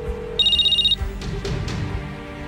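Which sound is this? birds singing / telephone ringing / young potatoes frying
telephone ringing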